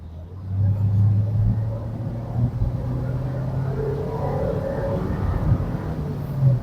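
An eighth-generation Honda Civic's engine rumbles and pulls steadily under load, a low continuous drone rising slightly in pitch, heard from inside the car.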